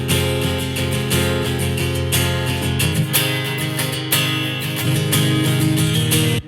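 Guitar with warm tape saturation distortion and soft limiting, sitting inside a dense full band mix that plays continuously and loudly, no talking.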